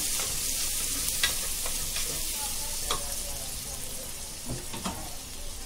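Onions and turmeric frying in a pan with some seeds added, a steady sizzle with clinks and scrapes of a spoon stirring at intervals, close and without talk.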